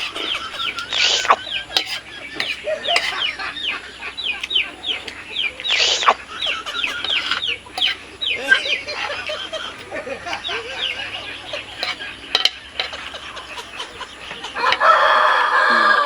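On a farm on a rainy morning, chickens cluck busily and near, with short rooster crows breaking in repeatedly over the steady chatter.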